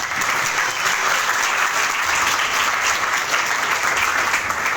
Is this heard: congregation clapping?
yes